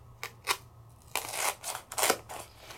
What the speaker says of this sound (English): I'm going to cut out a piece, and you can hear it crunch because it is that thick